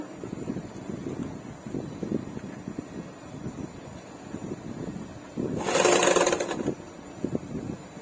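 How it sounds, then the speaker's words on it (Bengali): A sewing machine runs a short extra reinforcing seam on a double-katori blouse, one brisk whirring burst of about a second that rises out of a low background rumble. "আর একটা সেলাই দিয়ে দেবো মজবুত হওয়ার জন্য"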